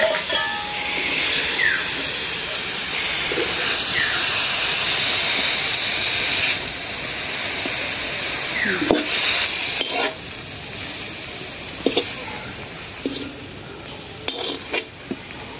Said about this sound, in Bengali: হয়ে গেল লাউ শাক ভাজা।